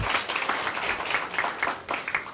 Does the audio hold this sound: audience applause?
yes